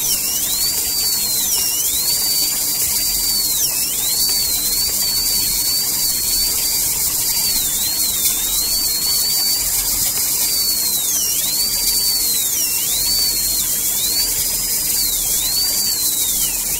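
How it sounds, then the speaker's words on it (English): A dental handpiece spins a surgical-length carbide burr, drilling an endodontic access opening in a tooth. A thin, high, continuous whine wavers slightly in pitch and holds steady for the whole stretch, with no talking. "this is a surgical length carbide burr, and we are utilizing this to do the access opening"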